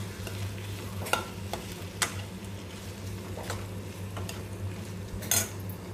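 A spoon stirs tomato and spice mixture frying in a pan, with a few sharp scrapes and clinks of metal against the pan over a steady soft sizzle, close and without any voices.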